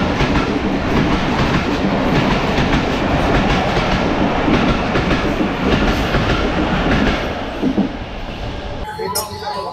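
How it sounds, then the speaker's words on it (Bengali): A local train pulls away from a station in rural Bangladesh, its wheels keeping up a steady, loud clickety-clack over the rails throughout, easing and thinning toward the end. "শীতলাই স্টেশন থেকে ট্রেন ছাড়লো আবার আমাদের গন্তব্যের উদ্দেশ্যে।"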